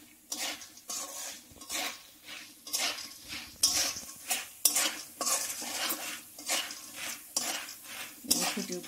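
Popcorn pops and rattles in a pan as it is stirred, with sharp, close scraping and clattering strokes repeating at an irregular rhythm over a soft background sizzle, and no talking.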